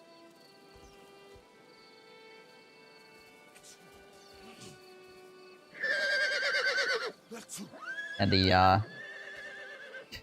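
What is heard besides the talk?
wargs making horse neighs, video game Total War Attila LotR mod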